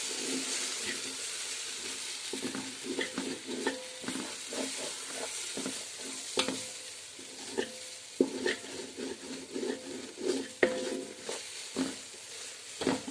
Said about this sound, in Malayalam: ഇത് നമ്മൾ ഇതിൻ്റെ പാത്രത്തിൻ്റെ അടിയിൽ പിടിക്കാതെ ഇളക്കി കൊടുക്കണം